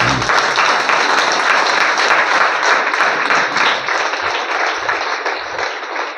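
A room full of people breaks into sustained, dense clapping at a business sales meeting, loud and steady throughout, easing slightly toward the end.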